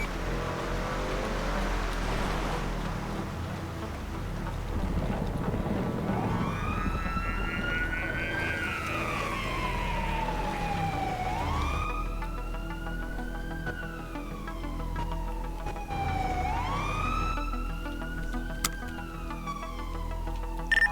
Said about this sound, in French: coupez-moi les sirènes s'il vous plaît.